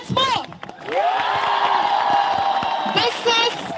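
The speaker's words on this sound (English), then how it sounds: "This is the clapping we are going to do." A protest crowd in New Delhi cheers and whoops loudly, with sustained voices and a swell of shouting that dips and rises again, clapping faint beneath the roar.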